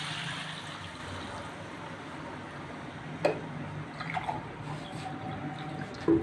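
Water from a glass poured into a pan of frying potato curry, a steady low rush of liquid with a few small splashes and clinks near the end.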